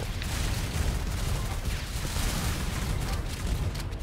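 Grenade launcher firing in the video game Survivors of the Dawn, a steady barrage of muffled booms and blasts rolling on without pause, fairly distant and low in level.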